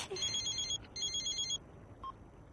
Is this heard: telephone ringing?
yes